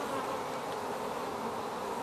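Dense, steady buzzing of many honeybees at a hive, a continuous close drone that fills the whole moment without pause.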